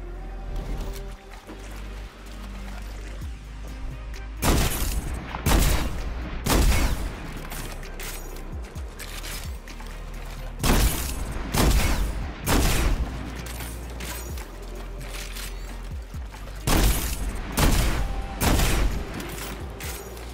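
Silicon Neuroma sniper rifle in Destiny 2 fires a string of heavy, booming single shots at uneven intervals, each a loud sharp crack with a short tail, over a low steady background.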